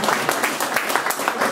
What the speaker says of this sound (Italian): Applaudiamo.